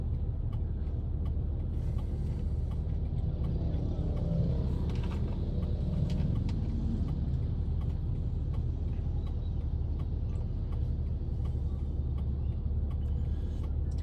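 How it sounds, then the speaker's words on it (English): A small field truck rumbles past on a Philippine street, a steady low engine drone with a faint hiss of brakes in the middle, heard amid ongoing traffic noise without talk. "That's a smaller truck you see going by now."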